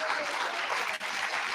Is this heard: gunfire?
no